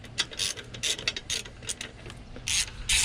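Ratchet wrench clicks in quick bursts while snugging down intake manifold bolts on a Land Rover Discovery 2, close and crisp with short pauses between strokes.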